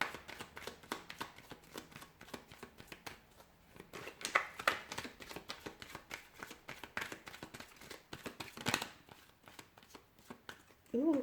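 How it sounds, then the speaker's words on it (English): Tarot cards are shuffled by hand close up: rapid, crisp riffling and flicking in quick bursts over several seconds, with a few louder snaps. "give the cards a shuffle"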